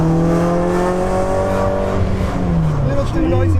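A Toyota AE86's high-revving 1.7L four-cylinder sounding loud and close, holding a steady throaty drone before the pitch drops off and rises again as it revs, with a voice over it.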